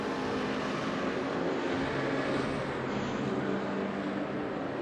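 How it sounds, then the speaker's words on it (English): Race cars at the Norisring, including the Golden Bolt BMW and the MMS McLaren 650S, roar past with a steady, loud broadband engine howl that swells slightly midway, with no voices. "The Golden Bolt BMW versus the MMS McLaren 650S."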